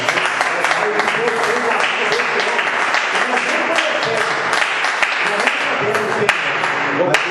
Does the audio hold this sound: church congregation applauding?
yes